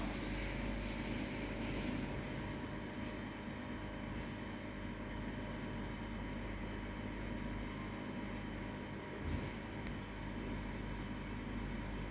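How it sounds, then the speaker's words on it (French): A low, steady mechanical hum from the small air compressor of an inflating medical air mattress on a hospital bed runs continuously at a quiet level, with a faint tonal whine and no voices. "Le bruit que vous entendez, c'est normal, c'est le compresseur."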